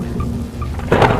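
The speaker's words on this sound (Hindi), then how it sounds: "चारों तरफ सन्नाटा और बस तूफान की गड़गड़ाहट" A deep rumble of thunder swells near the end of a brief stretch of stormy, rainy night ambience.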